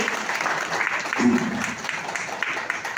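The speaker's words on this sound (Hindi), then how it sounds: "इनके लिए हम चाहेंगे कि एक जोरदार ताली लगे।" Business meeting audience in India giving a round of applause, a continuous clapping wash at moderate level with a faint voice briefly audible beneath it.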